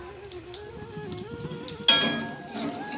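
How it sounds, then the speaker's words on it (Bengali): Bori lentil dumplings frying in a pan, a soft continuous sizzle broken by light clinks of a utensil against the metal and a sharper scrape near the middle, with no one talking. "শাকের তরকারি করব সেই জন্য এখানে বড়িটা ভেজে নিচ্ছি"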